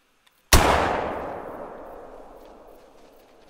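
A single loud 20 gauge slug shotgun blast fired while hunting at Layton Lake in the game Call of the Wild. The sharp crack rolls into a long fading echo, and nothing else is heard.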